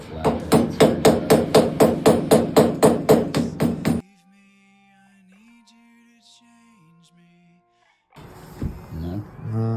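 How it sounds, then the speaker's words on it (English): Flathead screwdriver knocking against sediment inside a water heater, about a dozen sharp, evenly spaced metallic strikes close up, then a quiet stretch with a faint tone and some closing rustle and clatter. "Trying to break the sediment with the flathead screwdriver."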